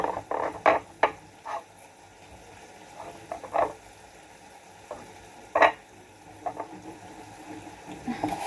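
Food fries briefly in a hot wok, with intermittent scraping and stirring clatters over a faint background sizzle, irregular bursts close by and no talking.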